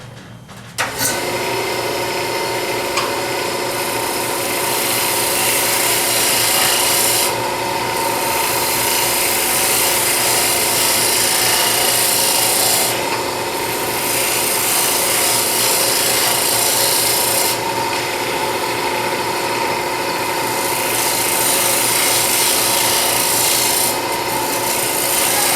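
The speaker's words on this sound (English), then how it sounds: "I'm going to shear cut with the edge of my bowl gouge and see if I can finish up that surface any better" Bowl gouge shear cutting spinning plywood on a wood lathe, a loud continuous rasping hiss over a steady motor hum with slight rhythmic variation, close and without speech.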